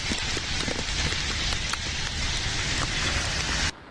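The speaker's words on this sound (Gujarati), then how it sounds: "मुंबई में 2 दिन से लगातार तेज बारिश हो रही है" Heavy rain pours steadily over Mumbai, a dense, continuous hiss of drops drumming on surfaces that stays loud and even throughout before dropping off abruptly at the very end.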